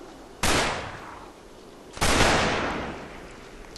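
Two loud, close gunshot blasts with long decaying echoes, spaced about a second and a half apart, in the Combat Mission Market Garden war game.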